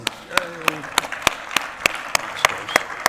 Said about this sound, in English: So please give them one round of applause.